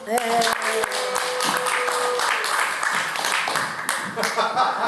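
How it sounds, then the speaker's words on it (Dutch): Audience applause at the opening of a community gathering in an old village church, many hands clapping steadily under and alongside voices, with a brief tone fading early on and the clapping continuing to the end. "Mag ik een applaus?"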